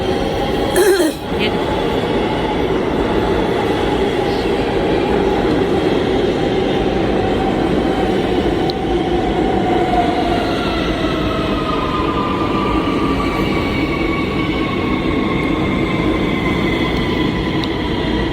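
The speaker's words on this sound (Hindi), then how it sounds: "अभी इसका बाद में अभी ई ट्रेन आया है, उसके बाद में मेरा ट्रेन आएगा।" A New York subway E train rolls into the Jackson Heights station, a loud, sustained rumble of wheels and cars on the rails with faint squeals, and a brief throat clearing near the start.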